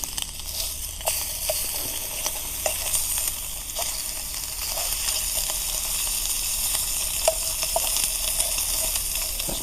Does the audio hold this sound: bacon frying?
yes